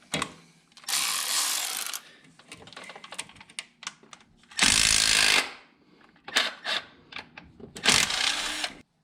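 Bolts come out of the front engine cover of a 2006 Mustang 4.0 V6, with bursts of a power tool buzzing loud and close between clicking, rattling handling of tools and parts.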